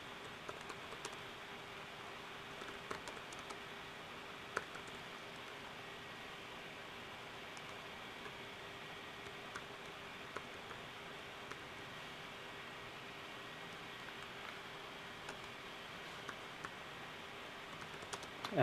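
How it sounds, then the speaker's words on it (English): Quiet, scattered clicks of typing on a computer keyboard tick irregularly over a faint steady hiss and hum, soft and close with no talking. "sorry, I'm just typing."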